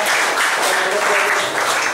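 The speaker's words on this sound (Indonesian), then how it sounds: "Tepuk tangan buat Anda." Audience applause at a school leadership training session, a dense, steady wash of many hands clapping close by, filling the whole moment without a break.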